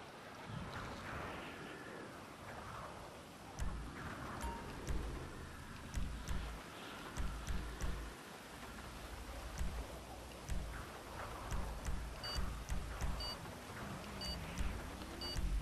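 Steady rain in GTA Online, a broad wash of hiss under car engine and driving noise, with rhythmic thumps and gusts layered over it at moderate loudness.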